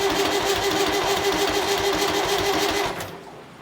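A 990 tractor engine cranking over in a steady rapid starter rhythm with a droning tone, loud and close, cutting off near the end without a sustained idle.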